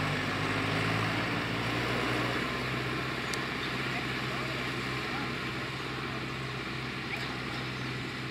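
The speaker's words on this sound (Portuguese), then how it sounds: "Trator indo buscar mais." A tractor driving off on a farm during a potato harvest, a steady rumbling engine drone at moderate distance that fades slightly over the clip, with faint background noise.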